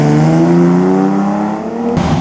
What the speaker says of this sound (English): here's a big mean Ferrari here